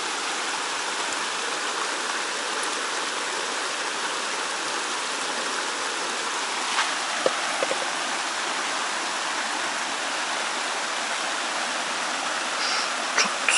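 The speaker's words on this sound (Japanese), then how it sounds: "いいね、雨降ってな" Rain falls beside a clear stream at a campsite in rural Tokyo, a steady even hiss of rushing water and drops with occasional faint knocks, with no talking.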